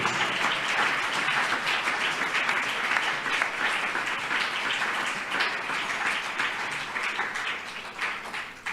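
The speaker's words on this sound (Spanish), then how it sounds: "Denle el aplauso a Jesús." A church congregation applauds steadily and loudly during a sermon, a dense wash of clapping that holds its level throughout without fading.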